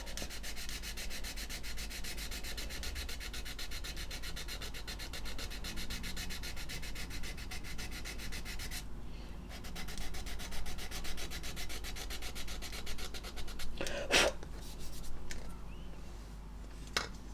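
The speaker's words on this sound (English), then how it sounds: "So all it is sanding is the ridge of filler" Close, steady scratchy rubbing of sandpaper on a ridge of filler on a plastic model kit, a continuous rasping hiss with a brief sharper scrape near the end, no voices.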